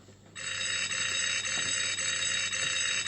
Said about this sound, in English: That bell's for me, not for you, kids.